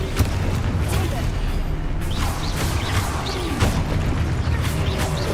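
Confringo fire-blast spells in the Hogwarts Legacy video game, a rapid string of booming bursts and sharp magical pops layered over a constant rumbling game score, loud and close.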